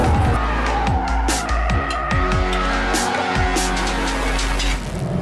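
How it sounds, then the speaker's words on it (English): A BMW 4 Series Coupé oversteering through a corner, tires skidding and squealing in loud repeated sweeps over a strong engine note, with no talk. "And here you see a little bit of oversteering."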